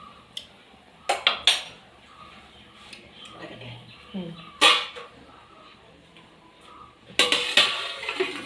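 A spoon stirs Karunagappally-style tuna curry in a pot, making scattered metallic scrapes and clinks in short bursts, with quieter kitchen noise between them.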